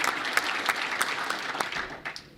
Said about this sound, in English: he deserves a huge round of applause